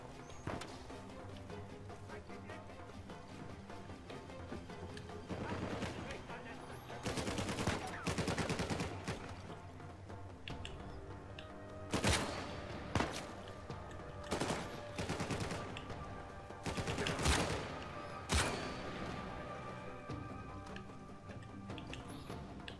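Sniper rifle gunfire in the video game Uncharted 4, several sharp, widely spaced shots cracking over a quiet background of game ambience and music.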